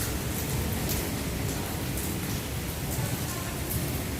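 Heavy, steady monsoon rain pours down outdoors near a shed after a spell of hot weather, a loud and continuous hiss of falling water that fills the whole clip without letting up.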